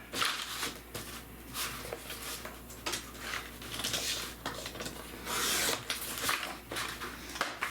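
Paper being cut for a scrapbook album, a series of close, quiet scraping and rasping strokes in an uneven rhythm with short pauses between cuts.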